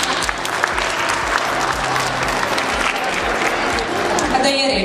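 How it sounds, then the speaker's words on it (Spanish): Audience applause fills a fashion and beauty night event in 2016, a dense, steady clapping that stays loud and continuous throughout with a faint crowd murmur beneath. "Jedan aplauz za njih."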